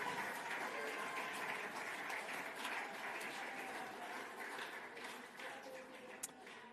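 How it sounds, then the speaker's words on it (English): Steady crowd applause at an awards night for a netball team, many hands clapping continuously and evenly, fading slightly toward the end. "A big round of applause."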